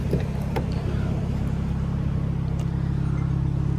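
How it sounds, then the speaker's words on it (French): Renault Megane RS Trophy 300 hp with EDC gearbox, its engine running in race mode: a low, steady rumble held close and even, with a few faint clicks early on. "Maintenant que j'ai mis le mode de race, le véhicule fait un peu plus de bruit déjà."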